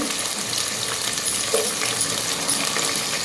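Potatoes, carrot, green chillies, onions and tomato sizzle steadily in hot oil in a pan for veg pulao, a continuous close frying hiss with faint stirring.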